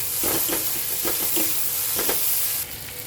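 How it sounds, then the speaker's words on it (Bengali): Maggi noodles stirred in a pan with salt and pepper, a steady frying sizzle broken by several rhythmic scraping strokes of a utensil, close and fairly loud, easing to a quieter hiss at the end. "সামান্য পরিমাণে নুন, গোলমরিচ দিয়ে একটু নাড়াচাড়া দেবো।"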